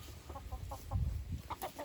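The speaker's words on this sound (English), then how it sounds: "Don't let Anna chase chickens." Chickens on a backyard homestead cluck in a run of short, close, moderately loud calls, with low rustling and movement underneath and no talking.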